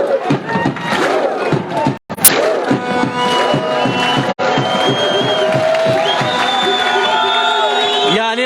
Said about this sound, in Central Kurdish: لەو هاندانە جوانە لەو چەپڵە ڕێزانەی هاندەرانی یانی وەرزشی ڕانیا.